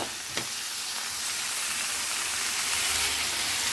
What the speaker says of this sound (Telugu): చింతపండు వేసుకొని బాగా మిక్స్ చేసుకోవాలా